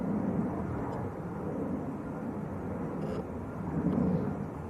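Jet airliner arriving at Manchester Airport, a steady broad low rumble heard at a distance, holding level throughout with no voices.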